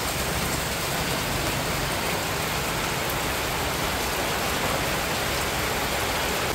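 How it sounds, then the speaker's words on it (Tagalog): Heavy rain pounds steadily on the roof of a leaky nipa hut during an all-night downpour, a dense, unbroken hiss with no gaps and no voices. "Maulan mga chula. Halos magdamag pong naulan."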